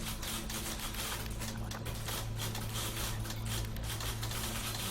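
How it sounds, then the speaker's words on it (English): Typewriters in The Beginner's Guide video game clatter in a dense, overlapping patter of keystrokes over a steady low hum, several machines typing at once without pause. "So many typewriters."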